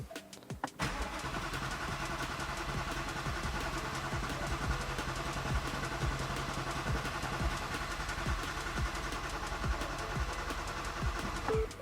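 Ford Mustang Mach 1 engine cranking over on the starter with fuses and coils unplugged to build oil pressure: a steady, loud, rhythmic whirring churn lasting about eleven seconds without firing.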